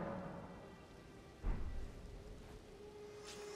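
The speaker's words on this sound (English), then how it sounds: "I like how the rain started in as she did that." Rain setting in within the video game Elden Ring: a steady, soft hiss of rainfall with a brief low rumbling swell near the middle, with no voices.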